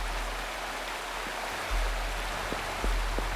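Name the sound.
waterfall in the video game Wuthering Waves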